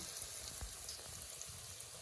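Palm fruit fritters (taler bora) frying in hot oil over a low flame, a steady soft sizzle with faint bubbling pops running throughout, no voices.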